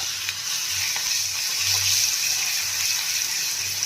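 Garlic paste, cumin seeds and asafoetida sizzle in hot oil while a Gujarati dry chickpea curry is being made: a steady, bright hiss of frying close up with faint low bubbling underneath, no talk.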